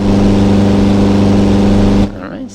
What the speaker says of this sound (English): got that nice Lycoming engine sitting up front.